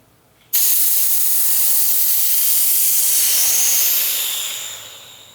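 Compressed air and moisture blast from the petcock of a DeWalt air compressor tank being drained: a sudden, loud, close hiss that starts abruptly, holds steady for several seconds, then begins to fade.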